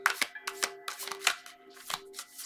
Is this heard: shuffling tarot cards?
yes